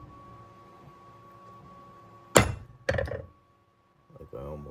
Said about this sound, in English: Give it a good whack on 8 sides on this case because I've got the bevel